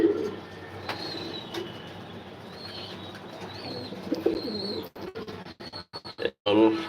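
Racing pigeons coo softly and repeatedly at close range inside a loft, and a run of sharp clicks and handling knocks breaks in toward the end.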